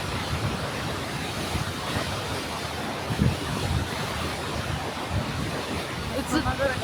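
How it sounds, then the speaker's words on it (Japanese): Rushing water sprays at Devil's Bridge in Andermatt, Switzerland, making a dense, steady roar with some wind buffeting, and voices come through faintly underneath. "映ってるかわかんないけど水しぶきすごいし"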